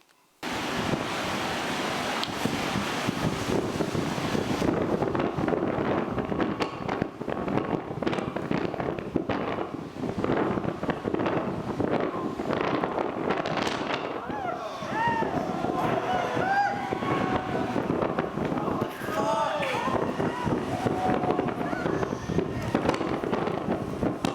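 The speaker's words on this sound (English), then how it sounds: "This video captures a Con Edison transformer blowing up near 14th Street." Con Edison electrical transformer exploding near 14th Street in Manhattan during Superstorm Sandy, a loud sustained crackling, booming roar heard from a distance with wind noise and some voices in the background.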